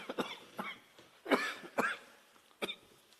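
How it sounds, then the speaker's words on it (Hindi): Several separate coughs and throat-clearing sounds at a press conference, short sharp bursts spaced unevenly over a few seconds, fairly quiet and with no talk. "खांसी ज्यादा।"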